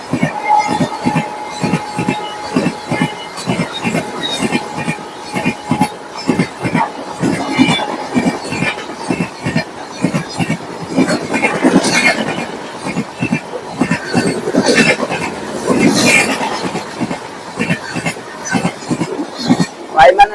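A train rolls into Bengaluru railway station with loud, steady clickety-clack of wheels over rail joints and a rumbling body noise throughout, as someone talks over it amid a crowded platform.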